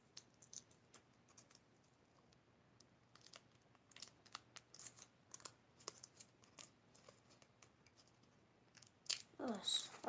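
A candy's paper wrapper is torn off in a quiet room, with scattered soft clicks and rustles building to a brief, louder crinkling and tearing burst at the end.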